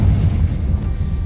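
A Confringo spell blast goes off in Hogwarts Legacy, a close, loud, deep rumbling boom that holds steady without a break for over a second, with no talk over it.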